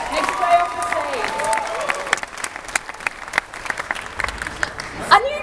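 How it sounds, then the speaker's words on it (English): Applause and some cheering break out from a crowd at Adelaide Oz Comic-con 2013 as a Wolf Link cosplayer leaves the stage, brisk uneven claps with voices calling out over them and a louder shout near the end. "let's give a massive round of applause as Wolfling makes his way off the stage"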